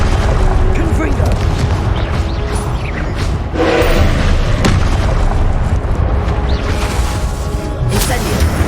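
A Confringo explosive spell from Hogwarts Legacy bursts with booming blasts amid continuous loud combat noise, while a voice speaks over the chaotic fight.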